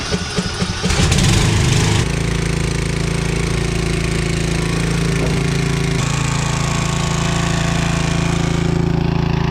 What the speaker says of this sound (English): And that piece of equipment is the DR brush mower.